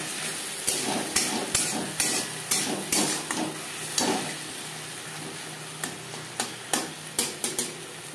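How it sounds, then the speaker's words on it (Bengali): A spoon scrapes and taps against a pan while onion is mixed with ginger and green chili paste, giving irregular knocks over a faint, steady background with no voices. "পেঁয়াজের সাথে মশলা বেশ ভালো করে মিক্স করে দেবো।"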